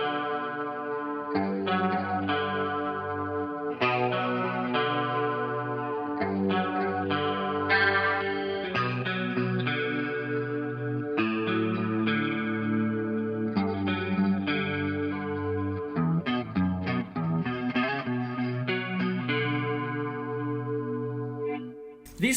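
A Jackson electric guitar with Marty Friedman Alnico 5 pickups and a Les Paul-style four-knob setup, played through clean tones with a chorus-like shimmer, strummed and picked chords ringing steadily and fairly loud, no talking.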